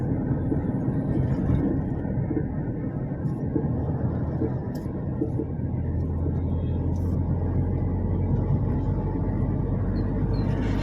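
An RTO flying squad vehicle from Bhopal drives off along a highway, a steady loud engine and road rumble continuing throughout with broadband traffic noise and faint voices underneath.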